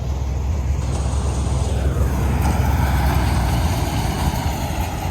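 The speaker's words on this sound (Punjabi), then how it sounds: "ਉਹ ਆਗਾ ਟਰੈਕਟਰ ਆਪਣਾ" A heavy diesel tractor engine, a slightly leaking 855, rumbles steadily up close, a deep continuous drone that swells slightly midway, with no talking.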